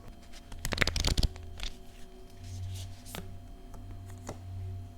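Tarot cards handled and shuffled by hand, a dense burst of crisp riffling and slapping close to the microphone, then quieter card sliding over a low background hum.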